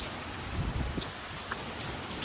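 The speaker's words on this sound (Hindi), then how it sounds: "पूरी तेज पड़ रही है बारिश अब" Heavy rain pours steadily during a storm with wind blowing, a dense, even hiss of drops hitting surfaces close by, with a few louder low thumps and no talk.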